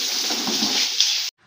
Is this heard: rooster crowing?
no